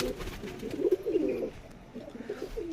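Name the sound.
Rajshahi Giribaz tumbler pigeons cooing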